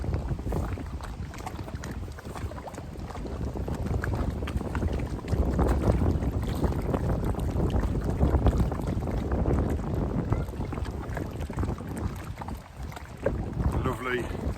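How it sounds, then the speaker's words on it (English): Strong wind buffets the microphone over choppy lake water slapping a small boat on a pike fishing trip, a steady loud roar with splashing throughout and a faint voice partly under it. "it is pretty windy this end of the lake, and pretty choppy"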